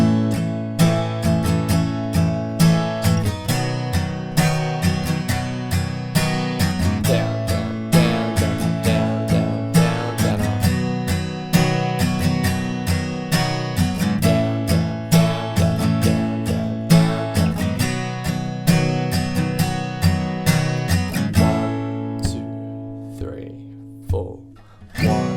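Acoustic guitar strums the chords of the last two lines of the third chorus of a song, steady rhythmic strumming, close and clear, ending with a ringing final chord.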